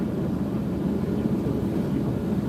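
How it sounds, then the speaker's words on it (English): Firefighting planes flying over a wildfire near Highway 38, a steady low droning engine rumble from overhead, continuous and fairly loud. "Just give you an idea how much the planes have been flying today."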